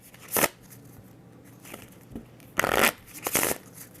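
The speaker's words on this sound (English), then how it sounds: "take your stack of company cards and shuffle them" A stack of company cards from the Furnace board game is shuffled in several quick riffling bursts, close by, separated by short quiet pauses.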